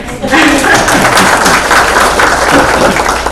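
An audience at a memorial celebration of life applauds before a son sings a song, a steady, loud wash of clapping that fills the room while a voice speaks over it.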